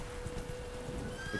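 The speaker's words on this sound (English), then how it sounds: "I heard a horse whinny." In The Witcher 3 game, a horse makes a brief faint whinny amid soft hoof clops and outdoor ambience, distant and short under a steady background tone.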